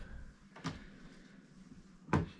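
Double doors on a rustic reclaimed wood bathroom cabinet open, giving two separate soft wooden knocks about a second and a half apart in a quiet room, the second one louder.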